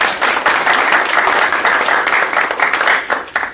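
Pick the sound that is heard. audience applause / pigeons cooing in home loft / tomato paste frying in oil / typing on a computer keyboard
audience applause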